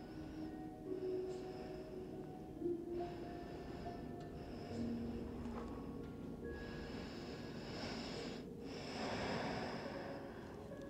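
Breathy exhales during a Pilates class blow out in several close, audible pushes over a low, constant background hum.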